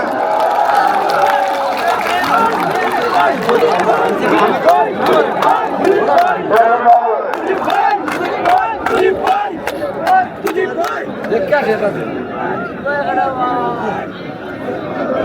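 Dense crowd noise at an outdoor political rally in Sylhet, Bangladesh, loud and continuous throughout, with shouting voices and scattered sharp claps or bangs.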